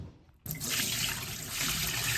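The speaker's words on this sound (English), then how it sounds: "So we're now flushing out the line cleaner with clean water." Clean water gushes steadily from beer line taps after a brief quiet start, flushing out line cleaner, a loud continuous rush of running liquid close by.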